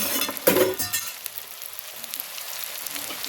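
Potatoes with green and red chillies frying in a pan, a steady close sizzle with a brief louder stirring scrape near the start, then softer crackling frying throughout, no voices.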